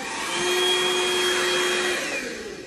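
A vacuum cleaner runs close by for a few seconds with a steady, loud whine that fades slightly toward the end, and no voices are heard.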